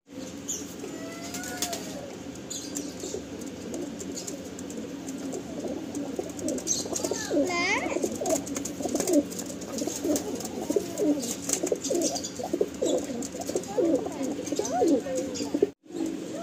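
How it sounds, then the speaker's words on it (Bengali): Domestic fancy pigeons coo in a steady, close bubbling murmur, with bursts of wing flapping and occasional chirps from a loft of pigeons. "নেক্সট একজোড়া পায়রা দেখুন"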